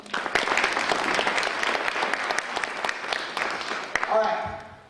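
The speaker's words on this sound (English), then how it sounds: "Everyone give her a big round of applause." A live audience claps through a round of applause for a woman called up at an entrepreneur tour event, dense and steady before tapering off near the end.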